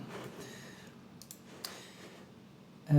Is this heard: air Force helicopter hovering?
no